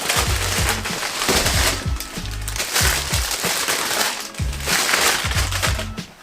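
Wrapping paper crinkling and rustling loudly up close as it is pulled off an Air Jordan 8 Valentine's Day sneaker, dense bursts of crumpling in uneven rhythm with low thumps underneath.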